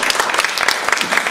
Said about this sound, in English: can everybody just give a round of applause to all the artists here?